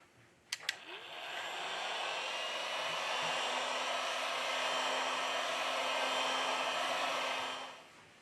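A heat gun blows on a Huawei Nova 5T phone to loosen its battery cover: a couple of quick clicks, then a steady airy whoosh for several seconds that cuts off at the end.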